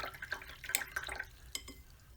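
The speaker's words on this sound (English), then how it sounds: "So rinsing the brush carefully." A paintbrush is rinsed in a small container of water after watercolor painting, giving faint close swishes, soft drips and light taps against the container, quiet and without talk.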